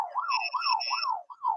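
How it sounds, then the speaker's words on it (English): Quiz show buzzer, a loud electronic warbling tone that rises and falls in four quick repeated sweeps, heard alone. "Pablo, Andy, have you got your buzzers ready?"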